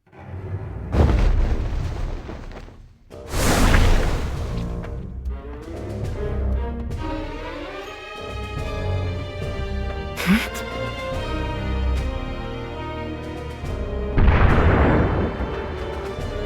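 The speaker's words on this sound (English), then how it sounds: "Those are the sounds of Rundal cannons." Cannons boom in a lake battle in Final Fantasy War of Visions, several heavy blasts spread across the span with rumbling tails, mixed with orchestral game music.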